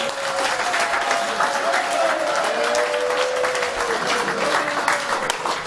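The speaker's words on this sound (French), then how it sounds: "Applaudissez pour que..." A crowd at a political party gathering in Senegal applauds continuously, a dense wash of clapping with a voice speaking over it.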